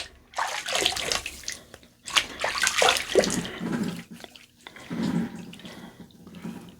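Water runs from a tap in bursts while rinsing off after a shave with soap, a steady splashing wash that stops and starts, close and moderately loud with no talk.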